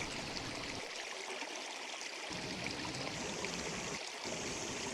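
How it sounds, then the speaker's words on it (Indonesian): A river in an animated Sumatran village scene flows steadily, a continuous broadband rush of water with a low trickling burble beneath, close and even throughout, with no voices. "Setibanya di sungai"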